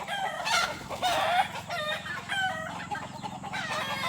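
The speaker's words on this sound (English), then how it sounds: "And this is the new batch of our chicken." A flock of farmyard chickens, including a rooster and a new batch of growing chicks, clucks and cackles nearby, with a couple of loud crowing bursts rising over steady chatter.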